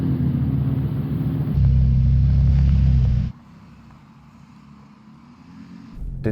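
Audi R8 accelerating hard in a drag race on snow, a loud rising engine roar for a few seconds that then fades into a distant low rumble before a closer burst of noise at the end.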